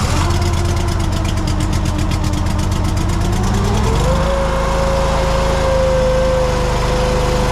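A Chinese mini skid steer's engine runs loud and close, a steady rattling drone that shifts pitch partway through as the revs settle into a steady idle.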